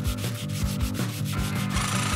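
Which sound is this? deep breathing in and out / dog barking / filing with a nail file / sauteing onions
filing with a nail file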